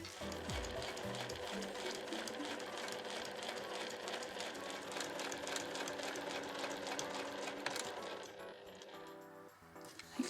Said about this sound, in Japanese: 最初にここの際を縫います。